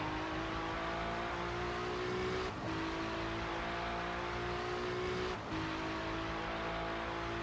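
GT3 race cars lapping Sebring in a racing video game, a loud steady engine drone at high revs that holds on with two brief dips like gear shifts, no voices.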